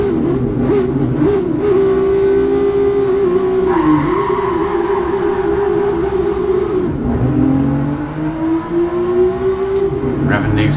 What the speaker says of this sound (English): Revving these cars out, spinning up the wheels before changing gear.